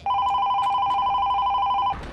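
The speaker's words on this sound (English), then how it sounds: "Darn phone." A telephone rings in the video game Psychonauts: one continuous electronic ringing tone, loud and steady, that stops abruptly, with no talk over it.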